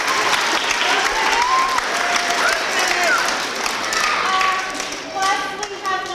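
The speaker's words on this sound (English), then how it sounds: "So give them a huge round of applause." Loud, sustained clapping from a school audience honoring students with perfect attendance at an awards assembly, a dense wash of hands with scattered voices and cheers mixed in.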